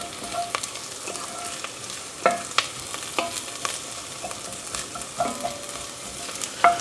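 Shallots and basil frying in a pan, a soft steady sizzle under repeated clicks and scrapes of a utensil stirring, close and moderately quiet, with no talk.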